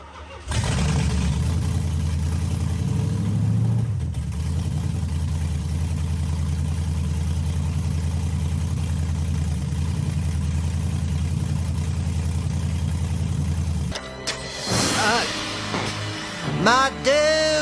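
A car's engine starts and idles steadily after a clutch line install, a low, even rumble held for about thirteen seconds before it cuts and gives way to clattering handling noises.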